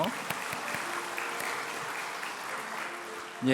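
A church congregation at a Sunday evening baptism service gives steady, moderate applause to encourage a speaker about to give a testimony, the clapping continuing for several seconds with a voice coming in at the end.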